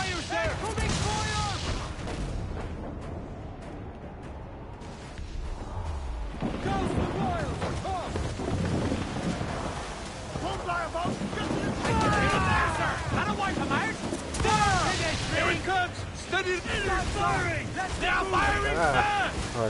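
Ship cannons fire in the pirate video game Assassin's Creed IV Black Flag, heavy booming blasts repeating over wind and sea noise while voices shout throughout.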